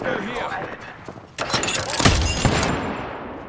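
Fuse's Knuckle Cluster ability going off in Apex Legends, a dense fusillade of sharp explosive pops and bangs rising after a quieter start, with a voice heard over the gunfire.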